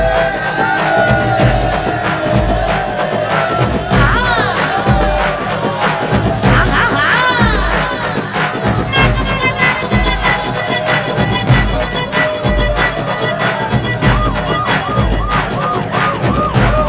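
A noisy crowd cheers and shouts in a dense, continuous roar with rhythmic thumping beneath it, and voices rise above the din throughout.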